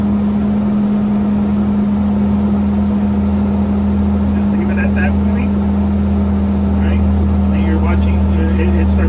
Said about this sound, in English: go ahead and press your accelerator, bring it up to at least 15 to 1800 RPM